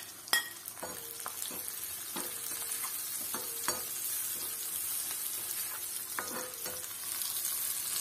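Dried prawns fry in oil with curry leaves, giving a continuous close sizzle broken by occasional scrapes and light clinks of a spoon stirring the pan.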